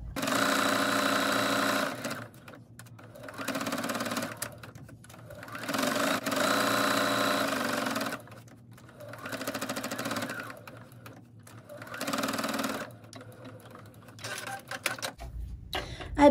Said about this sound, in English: I'm going to stitch with 1/8 inch, thereabouts, just top stitch around to close up the hole